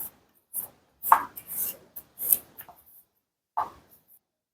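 Cashew nuts and chocolate chips being mixed into a banana cake mixture in a bowl, heard as close, intermittent scraping and soft tapping strokes in uneven bursts, with no talking.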